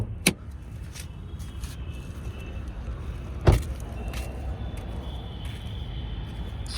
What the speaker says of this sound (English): So first we have to pop the hood.